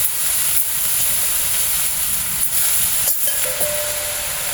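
Onion, green chili and hechi greens frying in a pan, a continuous loud hiss and sizzle with a few faint scraping stirs.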